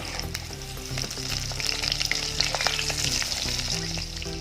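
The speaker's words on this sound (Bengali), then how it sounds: "কলার বড়াগুলো আস্তে আস্তে উল্টে দেবো।" Green banana and potato fritters sizzle and crackle steadily in hot oil as they are turned over, with a dense, continuous frying hiss and a few soft scrapes of the spatula, close and fairly loud, with no voices.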